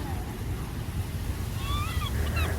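Ocean waves wash continuously onto a beach, a steady broadband surf with wind noise, while gulls call faintly in the background.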